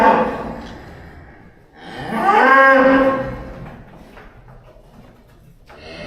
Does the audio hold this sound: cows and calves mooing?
yes